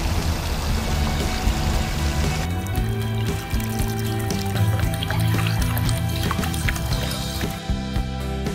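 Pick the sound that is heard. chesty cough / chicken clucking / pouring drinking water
pouring drinking water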